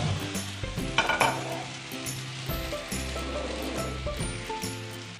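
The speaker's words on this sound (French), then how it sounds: "On va faire flamber le calvados." Calvados flambéing in a very hot pan for a Normandy-style émincé sauce: a steady broadband sizzle and crackle with a brief flare-up burst early on, alongside low background tonal hum, no talk.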